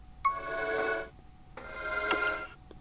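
Sci-fi effect from the Asus Zenfone 6 flip camera, heard as two short, bright synthetic whooshing chimes. Each lasts under a second with a pause between, played close and fairly quiet.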